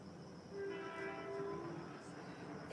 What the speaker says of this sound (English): comes another train.